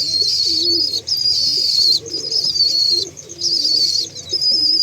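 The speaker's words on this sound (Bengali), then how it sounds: "আমার সবথেকে পুরাতন পায়রা" Male pigeons cooing close by in low, rolling phrases, with a steady high-pitched ringing tone running over the coos.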